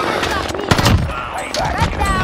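Gunfire in Call of Duty: Warzone on Rebirth Island, with dense bursts of shots clustered under game noise and overlapping voice chatter, loud and close throughout.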